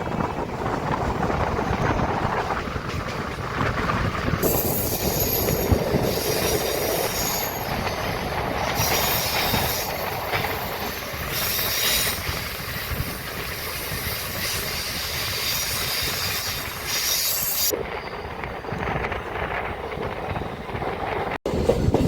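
A MEMU local train runs steadily near Vijayawada, with continuous rumbling wheels on rails, intermittent squealing, and bursts of wind noise, loud and close throughout.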